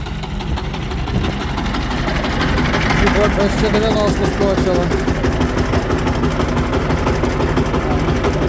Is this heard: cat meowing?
no